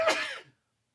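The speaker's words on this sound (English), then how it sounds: "I need to sneeze." A single short, sharp sneeze from a person at a desk, close and loud, bursting at once and fading within half a second into silence.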